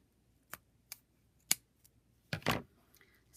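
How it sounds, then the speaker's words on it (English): Scissors snip through faux leather in a run of sharp, separate cuts: several crisp single clicks, then a longer rasping slice. All are close and quiet, with silence between them. "I'm going to take my scissors and I'm just going to cut this part off here"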